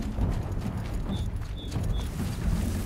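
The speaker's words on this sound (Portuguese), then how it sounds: "os cavalos vão tudo pra lá" Horses gallop in the video game Horizon with a continuous, muffled clip-clop of many hooves. A few faint high chirps sound over the drumming.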